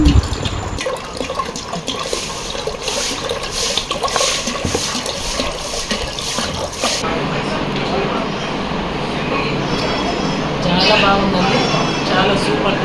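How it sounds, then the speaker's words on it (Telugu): Cool water is poured into squeezed lemon juice and sugar, a splashing, gurgling stream filling the vessel up close, running continuously and growing a little louder toward the end. "ఇక్కడ కూల్ వాటర్ అయితే కలిపిస్తున్నాం"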